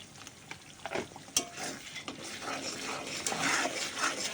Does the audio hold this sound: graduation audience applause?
no